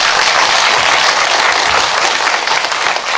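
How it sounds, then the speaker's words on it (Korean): An audience at a Buddhist graduate school alumni summer dharma lecture gives dense, sustained applause, loud and close, a continuous wash of many hands clapping with no voices. "우리 크게 박수 한번 주시죠."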